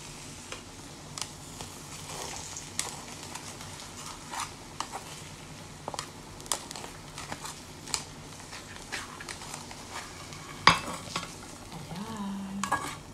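Eggs sizzle quietly in a frying pan while a utensil stirs them, with scattered scraping clicks throughout and one sharper clatter near the end.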